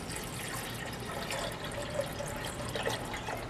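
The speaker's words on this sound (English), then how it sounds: "So now I'm going to pour enough water in here to give me 3/4 of a cup for the sauce" Water poured from a tap into a cooking pot for chicken taco sauce, a steady moderate hiss and splash that holds evenly throughout with no talking.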